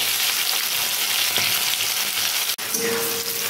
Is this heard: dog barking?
no